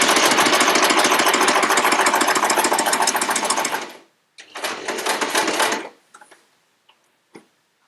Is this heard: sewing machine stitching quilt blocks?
yes